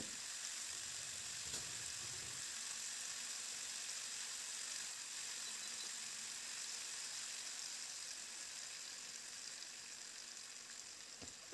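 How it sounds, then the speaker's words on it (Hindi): Spring onion and potato vegetable sizzling in a pan over a low flame while being stirred, a soft continuous hiss with a few faint scrapes and no speech. "अब बस हम इस सब्ज़ी को पाँच मिनट तक इसी तरीके से बिना ढके चलाते रहेंगे जिससे हमारे आलू भी कुछ फ्राई हो जाएंगे"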